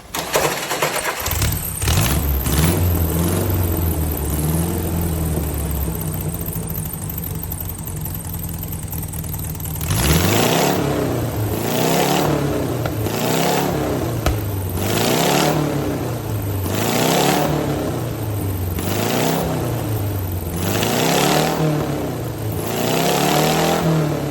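A VW-engined BMW motorcycle idles roughly after a timing adjustment, then is revved repeatedly in a steady rising-and-falling rhythm, loud and close, with no backfiring and no speech.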